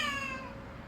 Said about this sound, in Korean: 고양이가 이제 가끔 이렇게 돌아다닙니다